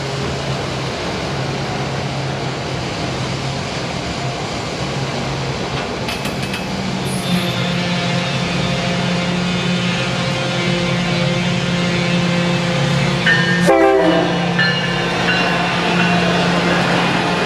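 An electric Metra commuter train passes near Homewood, Illinois, with a steady rolling rumble and drone, and a short horn blast sounds close by late in the pass.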